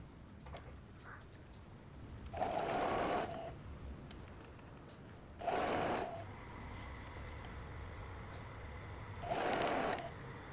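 A sewing machine stitches a trouser seam with a 1 cm margin in three separate bursts of about a second each, with quiet pauses between them and no talk.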